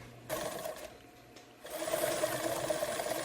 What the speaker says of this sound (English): I'm going to sew a bit of a zigzag box here.